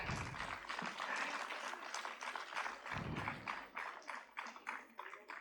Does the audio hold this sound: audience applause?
yes